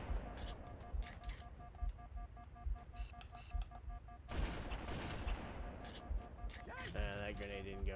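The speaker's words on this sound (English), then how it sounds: "That grenade didn't go far enough." Halo: Combat Evolved gunfire with a grenade explosion, repeated sharp shots in a rhythmic pattern, then a sudden broad blast midway followed by rumbling and more firing, fairly faint overall.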